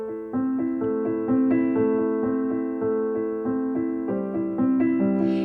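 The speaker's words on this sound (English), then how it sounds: "it's known as the Alberti bass" Piano plays a steady Alberti bass broken-chord pattern, low-middle-high-middle notes rolling evenly and clearly throughout, with the harmony shifting partway, no voices.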